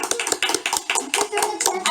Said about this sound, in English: Applause for Emma